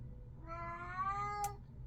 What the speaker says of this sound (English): I do apologize for the cat.